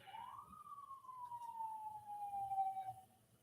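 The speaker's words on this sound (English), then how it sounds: "What's that police siren?" A single police siren wail sweeps up and then slowly glides down in pitch, fairly faint and distant over quiet background noise.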